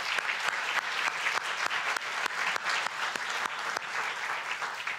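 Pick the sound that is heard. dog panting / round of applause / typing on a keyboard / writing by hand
round of applause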